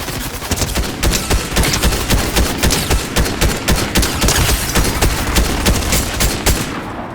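Rapid volley of anti-vehicle rocket launcher shots in Fortnite, loud dense bursts firing in quick succession with explosive cracks throughout, no talk.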